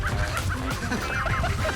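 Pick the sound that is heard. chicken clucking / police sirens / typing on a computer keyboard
chicken clucking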